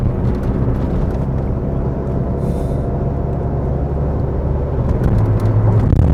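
A SAAB 9000 Turbo Classic cruising on the freeway, its engine drone and road rumble loud and steady inside the cabin, with wind noise and no talk.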